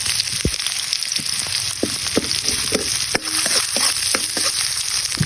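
Garlic and onion fry in a pan for rabbit kare kare, a loud, continuous sizzle broken by scattered sharp clicks and taps of stirring.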